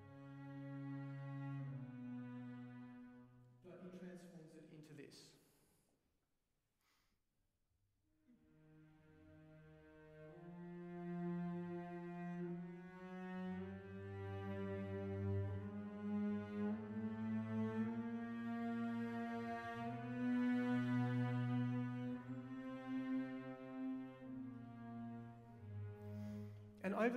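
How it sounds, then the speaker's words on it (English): Schumann's Symphony No. 2 played by an orchestra, its bass line stepping through a full chromatic scale beneath sustained harmonies, soft at first, then swelling into a fuller, louder ensemble texture after a brief near-silent pause. "he starts to make the bass line a full chromatic scale."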